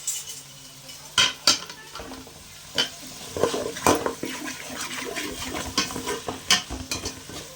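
Tomatoes frying with ginger and garlic in a pan for a chicken dish, with a soft sizzle under repeated sharp clinks and scrapes of a spoon against metal, irregular and close, with no talking.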